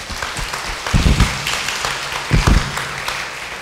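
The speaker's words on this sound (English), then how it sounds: "So that's worth a round of applause" Audience applause at a community gathering, a dense wash of many hands clapping continuously, fairly loud with a few heavier bursts, no speech over it.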